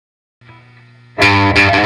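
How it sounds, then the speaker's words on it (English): An electric guitar plays lead tones through the lead channel of a KLD JCM25PC Marshall-style amplifier kit, a quiet sustained note followed by a loud, distorted struck chord that rings and is hit again. "I'll start by playing some lead tones through the lead channel, followed by some crunchy rhythm tones, and finally some clean tones"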